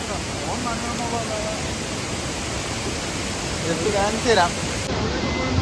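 Aruvikkachal waterfall roars as a steady, dense wash of spray noise that fills the whole stretch, with voices chattering over it near the end.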